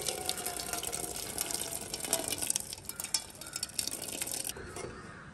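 Water drained off boiled cowpeas in a kitchen, a steady splashing pour like a running tap that runs for about four and a half seconds before easing to a faint trickle.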